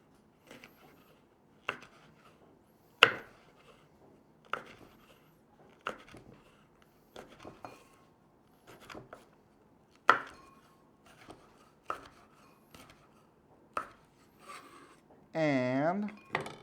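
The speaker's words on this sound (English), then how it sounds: "I'm just gonna take some chili, whichever one I like, and I'm just gonna slice it thin or large" A knife slices chili on a cutting board in separate sharp taps, roughly one every second or so, close and clear against quiet, with a brief rustling sound near the end and no talking.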